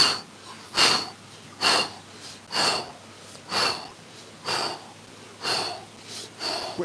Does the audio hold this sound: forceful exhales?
yes